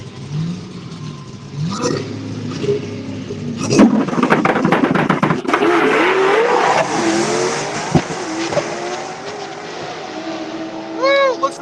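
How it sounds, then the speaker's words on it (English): Cars launch in a drag race at a drag strip, loud engines revving, surging and roaring away with sharp bursts and tire noise, and a voice heard over the din. "looks like it's a drag race"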